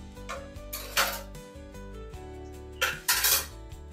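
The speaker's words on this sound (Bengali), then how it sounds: "এবার আমি ঢাকাটা তুলে নিচ্ছি।" Metal lid lifted off a pot of masala chicken during cooking, with a few clear clinks and scrapes, the sharpest near the middle and a pair of bright knocks later, close up against a steady low hum of background music.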